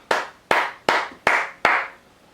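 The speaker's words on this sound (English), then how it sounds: "a round of applause" Five separate loud hand claps, one at a time at a slow, even pace, each ringing briefly in a reverberant space, with no voices.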